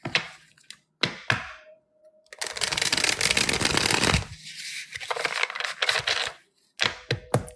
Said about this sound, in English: I have to shuffle the cards until I feel good about it.